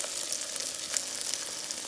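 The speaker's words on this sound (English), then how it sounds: "I hear it frying." Chicken wings frying in a pan give off a steady, bright crackling sizzle with small pops scattered through it, close and continuous with no one talking.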